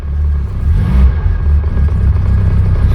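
Cold car engine idling steadily with its carburettor choke engaged, a close, continuous low rumble throughout with slight unevenness.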